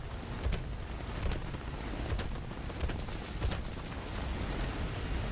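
Aircraft machine guns fire at an enemy plane in an arcade-mode flight combat game, a dense, continuous rattle of rapid shots with a low rumble that stays loud throughout, with no voices.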